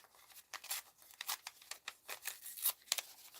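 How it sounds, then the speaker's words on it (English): Paper being torn by hand for a slow-stitch mixed-media art journal, a run of short, crisp ripping strokes in an irregular rhythm, close and fairly quiet with no voices. "It's supposed to be torn paper."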